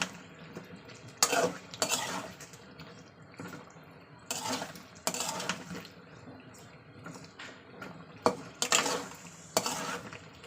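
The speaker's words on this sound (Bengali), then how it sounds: "মাছটা একটু মশলার সঙ্গে কষে নিচ্ছি" Pieces of snakehead fish, alive until cut, are stirred with spices in a pan for a curry. Bursts of metal scraping and clattering come at irregular intervals over a low, quiet frying hiss.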